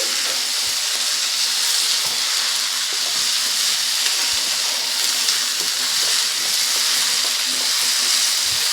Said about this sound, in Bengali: আমি চিংড়ি মাছগুলো দিয়ে দেবো এর ভেতরে চিংড়ি মাছটা দিয়েও আবারও ভালো করে কষিয়ে নেব একটু